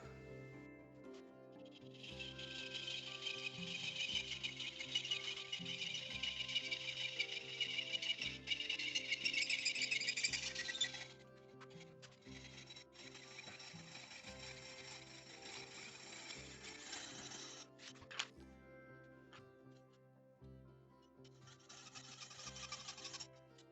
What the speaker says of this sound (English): So I've switched to an old-fashioned junior hacksaw, take the ends off, we'll see how that works.